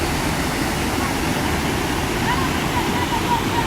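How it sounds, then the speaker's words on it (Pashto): Water rushes loudly and continuously at a churning spot on the river in Arghandab District, Kandahar, Afghanistan, as a steady, dense roar throughout. "د اوبو شور ډېر زیات دی."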